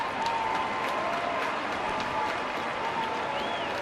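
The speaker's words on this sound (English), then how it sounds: "Another big crowd here tonight." A large crowd at a night baseball game in an Angels stadium keeps up a steady, distant wash of applause and murmur, with faint whistles rising above it.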